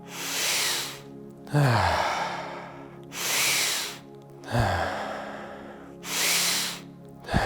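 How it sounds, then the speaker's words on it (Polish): Deep, slow breaths during a yoga breathing exercise, three long airy inhales or exhales each followed by a sharp release, close and clear with no talking. "Zaczynamy oddech."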